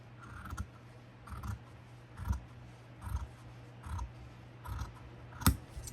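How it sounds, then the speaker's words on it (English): Scissors make soft, evenly spaced snips every second or so while cutting craft material from the bottom corner up toward the middle for a DIY Christmas gnome, close and quiet with no talking. "you take your scissors and you just want to start at the corner of the bottom and cut your way up to the middle"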